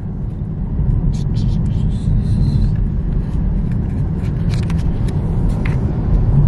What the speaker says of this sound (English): so now we're driving to work